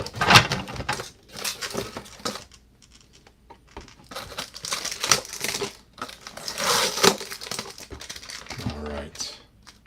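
Tape being cut on He-Man figure packaging, with short crinkly snips and tearing bursts of plastic and tape close up, alternating with stretches of speech.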